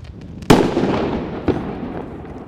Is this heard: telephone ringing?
no